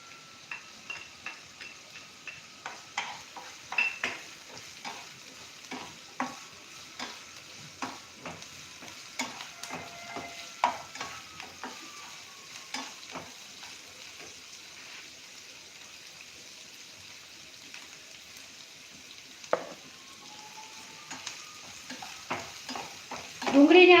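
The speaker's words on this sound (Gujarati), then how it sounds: "ડુંગળીને આપણે સરસ રીતે સોતળી લેશું." Chopped onion sautéing in a pan with ginger, chili and garlic paste, a soft continuous sizzle beneath a string of quick scraping stirs and clinks, fairly quiet and close, with no talking.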